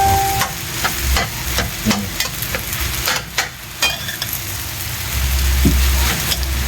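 Fried rice made with coco pandan rice being stirred and tossed in a frying pan, with loud sizzling and repeated scraping strokes of the spatula in an uneven rhythm, ending in a deeper low rumble.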